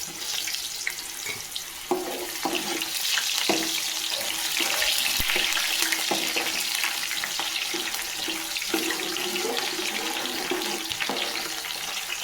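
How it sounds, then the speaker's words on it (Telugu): Onion pieces fry in hot oil for a fish curry, a dense, steady sizzle and crackle with occasional sharper pops running throughout, fairly loud and close, with no voices. "ఆయిల్ బాగా హీట్ అయిన తర్వాత మనము ఉల్లిపాయ ముక్కల్ని వేసుకొని ఫ్రై చేసుకోవాలి"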